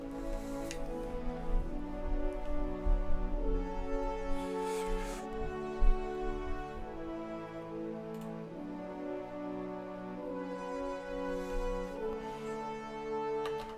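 An emotional future bass chord progression plays steadily with lush sustained synth chords, a deep sub-bass underneath and light ticking percussion, moderately loud with no talking.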